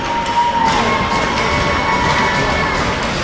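Youth hockey teams in a rink cheer the referee, a continuous loud crowd roar with shouting young voices and occasional thumps, steady throughout.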